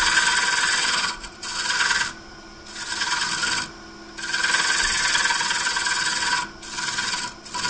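A carbide lathe cutter scrapes a dovetail into a large dogwood bowl on the lathe, a loud rasping hiss in several bursts of a second or two, separated by short quieter gaps.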